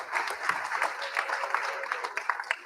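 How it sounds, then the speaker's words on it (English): An audience applauds a panel at a bare-knuckle fighting pre-fight press conference, a moderate spread of clapping with distinct sharper claps toward the end. "Let's have a round of applause for our world-class panel"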